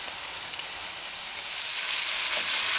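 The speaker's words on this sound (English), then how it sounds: "We fry this off for about 5 minutes, just so it goes translucent but doesn't brown" Onion and ginger frying in a pan for an Indian-style meat curry, a steady close sizzle with a fine crackling hiss that swells slightly louder toward the end, with no voices over it.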